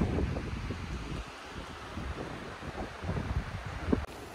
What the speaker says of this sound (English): As soon as I entered, the wind picked up.